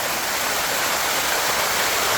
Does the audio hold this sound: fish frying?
no